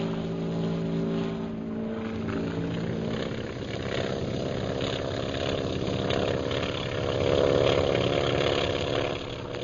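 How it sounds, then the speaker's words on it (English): Steady, droning engine roar of bomber planes, sustained and fairly loud throughout, swelling slightly near the end as the planes move off. "There go the bombers"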